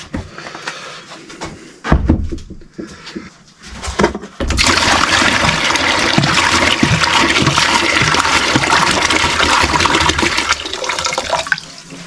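Water pours and rushes loudly into a container to dilute degreaser for cleaning Suzuki A100 motorcycle parts, a sustained close splashing flow after a few seconds of clatter and handling.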